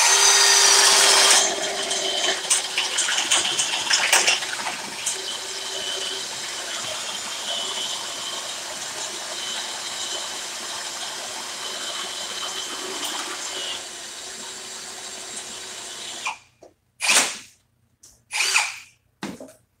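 Milwaukee M18 Fuel Gen3 hammer drill and Ryobi 18V One+ drill boring into wood, a loud whirring grind with uneven bursts that fades into quieter rough cutting, then stops, followed by a few sharp knocks.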